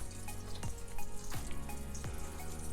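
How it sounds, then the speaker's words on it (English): Three cups of water are poured into a cooking pot holding peas and eggplant sauce, making a quiet, steady trickling splash with faint sizzling underneath. "I'm going to just add the water."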